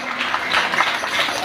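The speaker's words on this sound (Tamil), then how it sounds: "ஒரு கைத்தட்டி ஆமென் சொல்லுங்க பார்க்கலாம்" Church congregation clapping hands during a Sunday service led by a bishop, a dense, steady patter of many palms filling the space for a brief moment.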